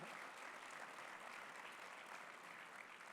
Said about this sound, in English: Please extend a round of applause.